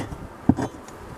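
Honeybees at a hive that recently suffered a colony collapse, a short low buzzing with a brief louder burst midway.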